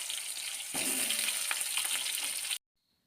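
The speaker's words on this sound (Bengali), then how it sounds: "এবার এই তেলের মধ্যে আলুগুলোকেও একটু ভালো করে ভেজে নেব" Cut potatoes fry in oil tempered with cumin and whole garam masala for a vegetarian pointed gourd curry, a strong close sizzle that cuts off abruptly into silence near the end.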